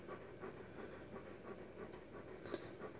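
A malamute pants steadily, with quick rhythmic breaths close to the mic over a soft, even background hum.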